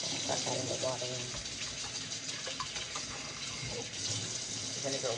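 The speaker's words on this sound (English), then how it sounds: "Start adding the water in." Tap water running steadily into a bowl of vinegar for cleaning chicken, a continuous splashing pour with people talking over it.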